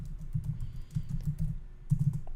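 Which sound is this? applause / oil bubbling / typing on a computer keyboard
typing on a computer keyboard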